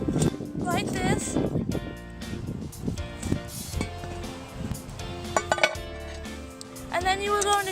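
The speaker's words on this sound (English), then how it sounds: "we're going to take the lid off of the Dutch oven" A metal lid lifted off a Dutch oven holding a baking brownie, a few clinks and clanks of metal under a person talking nearby, followed by brief ringing clatter.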